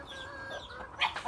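Roosters in a fighting-cock coop cluck and call in short, close bursts, with a sharper outburst near the end over faint background noise.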